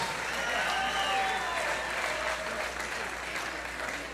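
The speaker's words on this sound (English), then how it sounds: "Ladies and gentlemen, a big round of applause for both of these professional Rocktagon warriors." A crowd gives sustained, dense applause for two professional fighters after an MMA bout at Rocktagon 27, with steady clapping throughout, some cheering, and an announcer's voice faintly underneath.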